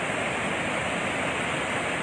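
Water released through the gates of Magat Dam during flooding roars as a dense, steady rush with no pauses or breaks, loud and continuous throughout.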